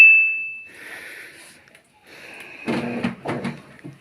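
A Samsung automatic washing machine gives a steady electronic beep, then after a pause its door is opened with a few close, hollow clunks and rattles.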